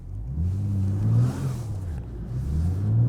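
A BMW G82 M4 Competition pulling away in four-wheel drive: a deep, close engine rumble that rises in two revving surges, with tire and road noise under it and no talk.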